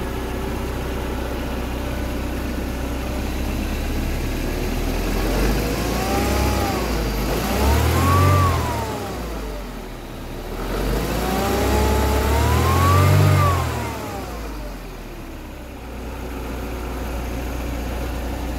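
Mercedes SLK R170 with an Eaton M62 supercharger and upgraded performance pulley, idling steadily then revved twice in clear rising-and-falling sweeps with a supercharger whine, each settling back to idle, close and loud with no talk.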